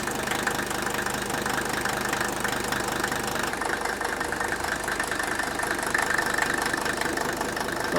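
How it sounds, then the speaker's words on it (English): A diesel engine idles with a steady, loud, continuous clatter from its fuel injectors, an even mechanical rattle that runs throughout with no pauses. "you can definitely hear the rattle of the fuel injectors"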